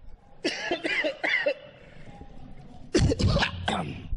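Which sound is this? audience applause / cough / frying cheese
cough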